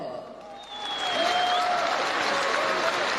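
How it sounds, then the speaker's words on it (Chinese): Long, enthusiastic applause from a crowd at a Chinese company's flag-raising ceremony in Russia: a dense, steady wash of clapping that swells louder after a moment and holds, with tonal voice-like sounds over it. "您听听这掌声，够热烈的。"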